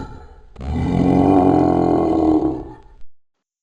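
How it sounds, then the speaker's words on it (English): A Sasquatch creature in the Carnivores game mod lets out one long, loud, ape-like roar that swells and holds for a couple of seconds. It ends with a short grunt, then silence. "The final call is very ape-like, using familiar grunts associated with the large primates."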